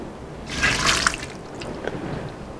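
Heated fresh lard is poured into bread dough, a brief soft splashing pour with a few drips afterward, close and fairly quiet.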